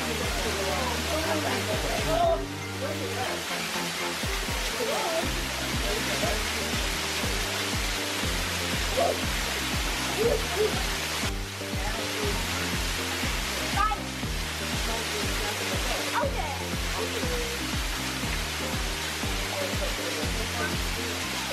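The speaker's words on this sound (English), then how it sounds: "Wait, it's a real waterfall." A real waterfall roars as a steady, loud rush of falling water close by, a constant broadband hiss with people talking faintly over it.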